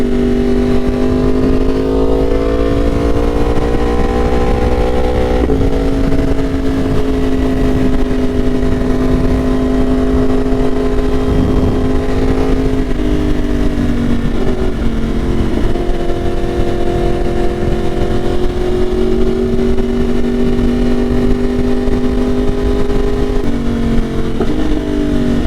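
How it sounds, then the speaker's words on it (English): A tuned Yamaha R1 Limited Edition motorcycle accelerates hard with a quick shifter: a loud, steady engine drone rises in pitch, with brief clipped dips at the quick-shifted gear changes, close and alone throughout. "Listen to that quick shifter."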